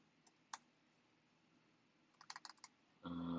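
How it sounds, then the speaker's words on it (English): A few quiet keystrokes tap on a computer keyboard: an isolated click, then a short quick burst of typing, before a louder steady tone takes over at the end. "I can type Kaposi's"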